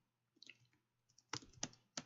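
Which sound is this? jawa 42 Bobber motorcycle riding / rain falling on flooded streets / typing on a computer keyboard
typing on a computer keyboard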